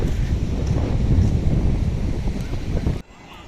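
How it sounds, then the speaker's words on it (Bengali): Strong wind buffets the microphone on the beach at Old Digha with light drizzle falling and rough sea nearby, a loud continuous roar that cuts off abruptly near the end, leaving a quieter hiss. "আর এখন হালকা হালকা ঝিরিঝিরি বৃষ্টি পড়ছে আর তার সাথে প্রচণ্ড পরিমাণে হাওয়া দিচ্ছে"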